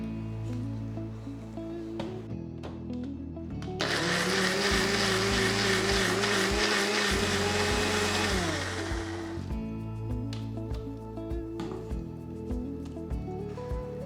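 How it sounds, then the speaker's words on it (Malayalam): A small jar of a mixer grinder blends coconut with water into a coarse paste, the motor roaring loudly for about six seconds and then cutting out, with quieter kitchen background noise before and after. "ഇങ്ങനെ ചെറിയ ക്വാണ്ടിറ്റി വരുമ്പോൾ മിക്സിയുടെ ചെറിയ ജാർ ഉപയോഗിച്ചാലും മതിയാവും."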